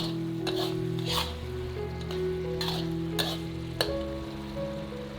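Food stir-fried in a wok, near the end of cooking, with steady close sizzling and a few scraping stir strokes over a constant tonal hum.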